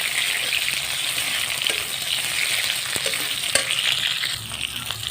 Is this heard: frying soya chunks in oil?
yes